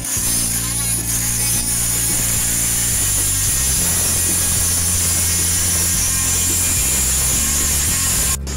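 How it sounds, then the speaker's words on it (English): A small cutoff saw cutting through toilet bolts gives a loud, steady high-pitched whine and grinding drone that runs without a break, close up. "we cut those bolts off with the cutoff saw"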